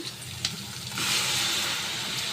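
A paste of ground coconut, ginger and spices hits hot oil for Andhra-style chicken curry, and a steady hiss swells into a loud, continuous sizzle with a single clink near the start.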